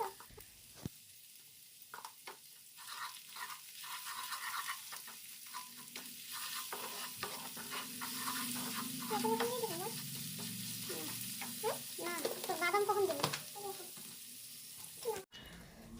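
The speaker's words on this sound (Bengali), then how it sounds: "শুকনো লঙ্কার গুঁড়ো, হলুদ, লবণ দিয়ে তারপর ভালো করে মশলাটাকে কষাতে হবে" Spice masala with chili powder, turmeric and salt is stir-fried in a pan, starting with faint scrapes and building to a steadier sizzle with stirring strokes and a brief louder clatter near the end.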